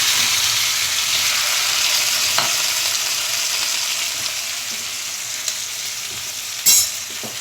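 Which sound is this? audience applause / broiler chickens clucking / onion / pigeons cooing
onion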